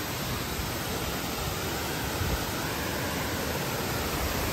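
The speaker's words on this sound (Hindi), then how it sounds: "The final stretch of this step waterfall." A waterfall on a mountain trek, on the final stretch of a stepped fall near the valley floor, gives a steady, close, unbroken rush of falling water that stays loud and even throughout.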